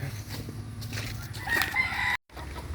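A rooster crows among caged farm birds, a strained call rising over a constant din of clucking and rustling. The sound cuts out abruptly for a moment, then the background resumes.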